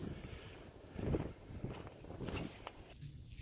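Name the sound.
wind blowing during a snow blizzard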